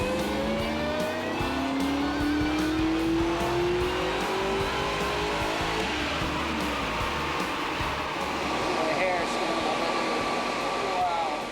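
Supercharged Mazda B2500 pickup truck engine during a dyno tuning pull, a continuous loud drone with a rising whine sweeping upward as revs climb, steady and close throughout.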